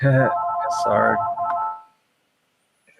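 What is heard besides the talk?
old-time telephone ring sound effect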